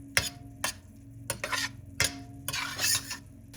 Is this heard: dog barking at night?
no